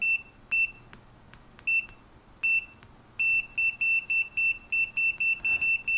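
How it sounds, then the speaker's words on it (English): Continuity test beeps from a Tooltop ET828 PRO oscilloscope multimeter: sharp, shrill tones, first a few scattered short beeps and then a fast run of repeated pulses, close and alone. "it's a big beep that I cannot turn off"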